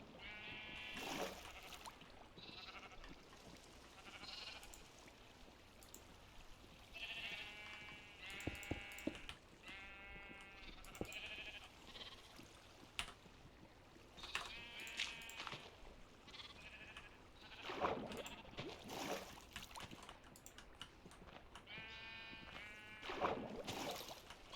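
Minecraft sheep bleat repeatedly across a game session, a series of wavering bleats overlapping and recurring at irregular intervals alongside other game sounds, fairly quiet overall.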